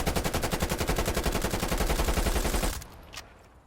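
Sustained full-auto assault rifle fire in Black Ops Cold War, a rapid, even stream of loud shots for nearly three seconds, then stopping abruptly with a brief faint clink trailing off.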